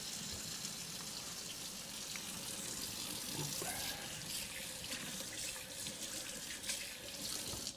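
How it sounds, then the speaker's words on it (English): Tap water running steadily as rice is rinsed in a kitchen sink, a continuous close splashing hiss for the whole stretch, with faint clinks under the flow. "So I'm going to rinse off the rice."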